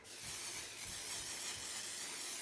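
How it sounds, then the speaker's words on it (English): A steady, faint hiss of an aerosol adhesive spray can spraying continuously for a couple of seconds, no voices. "I'm going to add some pixie spray on the back."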